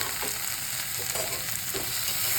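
Potato and eggplant frying with a fish roe curry base in a pan, stirred steadily; a continuous close sizzle with soft scraping strokes roughly every second, no talking.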